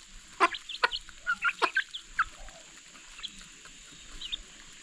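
A few backyard chickens cluck in a quick burst of sharp, close calls that fade into quieter scattered clucks against a faint, steady background hiss.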